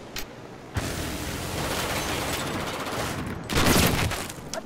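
Sustained automatic gunfire in Battlefield 4 on the Flood Zone map, a dense continuous fusillade with a louder burst near the end, close and loud.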